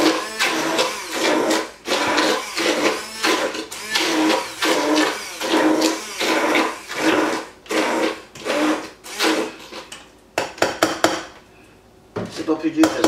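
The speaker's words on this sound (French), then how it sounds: "Là, je prends mon robot au pied. Puis, on va justement, là, juste pour mélanger ça un peu." An immersion blender churns a meat filling for tourtière in bursts, a loud buzzing whir pulsing on and off in repeated strokes, with short pauses and a few clunks near the end, close up and without speech.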